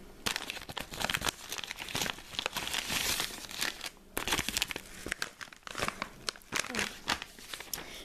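Padded bubble envelope being handled and emptied, with steady crinkling, crumpling and tearing of plastic and paper close by, continuous bursts for several seconds with no talk.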